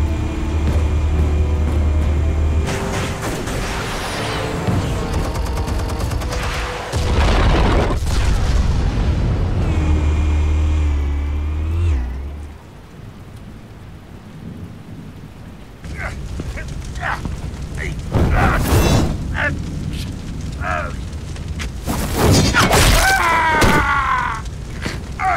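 Explosives detonating in Batman: The Telltale Series, with several heavy booms and rumbling blasts spread across the scene, separated by a quieter stretch, and sharp crashing impacts near the end.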